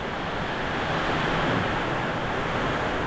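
Steady, roaring typhoon wind rushes without a break, a dense blustery noise that stays loud for the whole stretch with no voices.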